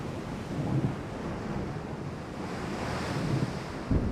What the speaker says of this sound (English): Looks like it's going to start storming.